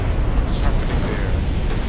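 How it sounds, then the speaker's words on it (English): A ship's magazine blows up in the naval battle game Ultimate Admiral Dreadnoughts, a dull rumbling blast with a long roaring tail, heard beneath someone talking. "I think we hit one of their magazines or something."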